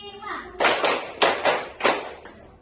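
Children in a classroom clap together in a counted rhythm game, three sharp bursts of group clapping spaced evenly apart, with a voice before the first burst.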